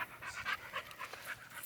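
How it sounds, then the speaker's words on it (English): A small, shaggy mop-like dog pants in quick, steady breaths close by, the rapid huffs carrying on alone without any talking. "This little mop dog"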